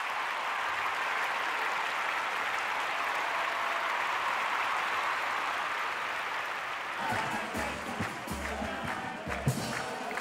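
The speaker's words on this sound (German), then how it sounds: "Das Publikum ist begeistert." Applause from an audience at a Uruguayan murga carnival show in Montevideo, a dense steady wash of clapping for about seven seconds, then thinning into scattered claps with some crowd noise and low drum-like thumps.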